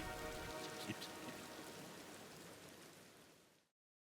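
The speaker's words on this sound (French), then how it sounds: "Rentrons, il pleut" Video game rain falls steadily on a surface, a dense continuous hiss with scattered drop patters, fairly close, ending abruptly.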